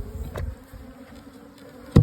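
Bees buzzing around a small commercial hive, a low droning hum close by with a couple of brief louder passes and a soft knock near the end.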